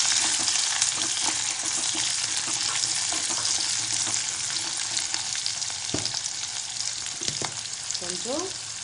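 Garlic and curry leaves sautéing in a pan for a fish curry, a continuous strong sizzle with scattered stirring knocks and scrapes, close and steady.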